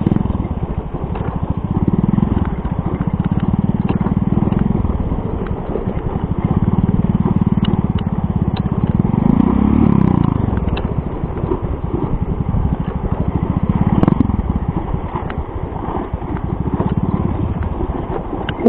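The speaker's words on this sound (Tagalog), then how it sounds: "Buhay pa yung motor ni Bato" A motorcycle engine runs steadily throughout, a continuous low mechanical drone with faint clatter and a few swells in level, with no clear talk over it.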